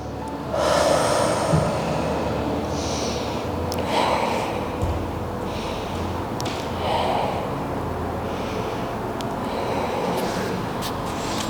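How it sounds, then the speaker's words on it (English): Deep, slow breaths during a full-body stretching session, several long audible inhales and exhales repeating every few seconds, close and fairly soft, with no talking. "Taking a few more deep breaths."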